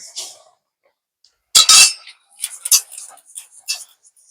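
Freshly popped rice (khoi), fried over high heat, is tipped into a metal strainer, making brief close rattling and clinking bursts in a few uneven clusters after a quiet pause.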